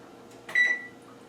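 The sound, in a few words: oven being preset to 380 degrees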